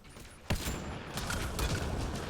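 A grenade blast in Mass Effect: Andromeda lands with a sharp boom about half a second in. Dense, continuous gunfire and combat noise follow, loud and close throughout.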